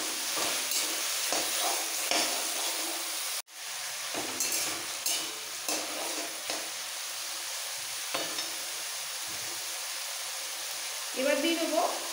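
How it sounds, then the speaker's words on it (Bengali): Potatoes sizzle and fry steadily in hot oil while being stirred, a dense close crackle running throughout with occasional scrapes of the spoon, one brief dropout, and a voice talking over it. "তেলের মধ্যে আলুগুলো নাড়াচাড়া করে এর মধ্যে দিয়ে দেবো টেস্ট অনুযায়ী নুন"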